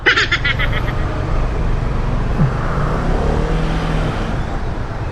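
Heavy northbound road traffic after rain: a steady, loud wash of car and engine noise with tyre hiss on wet pavement, continuous throughout, with a brief higher tone near the start.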